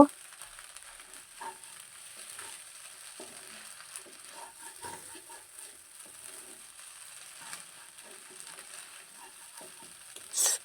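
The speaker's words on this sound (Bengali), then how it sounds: "এটা আমি আরও ভালোভাবে নেড়ে চেড়ে নেব" Ludus frying with spices in a pan while being stirred, a faint steady sizzle with soft scraping strokes of the spatula, fairly quiet throughout.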